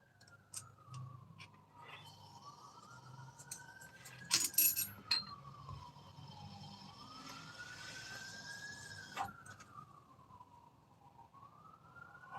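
A wailing police siren rises and falls in slow sweeps, fairly distant, over low traffic rumble, with a few brief clinks and knocks partway through.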